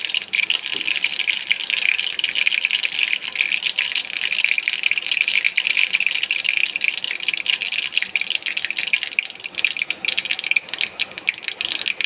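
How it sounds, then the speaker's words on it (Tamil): Mustard seeds sputter and pop in hot oil in a South Indian kitchen, a dense, continuous crackle of sharp little bursts close by with no pauses. "எண்ணெய் காஞ்சதும் கடுகு போட்டுக்கோங்க. கடுகு நல்லா பொரிய விடும்."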